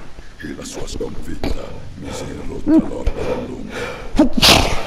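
A sudden sneeze breaks in near the end, loud and close, after steady Italian narration about a fallen titan in DOOM; a voice talks through most of the stretch before it.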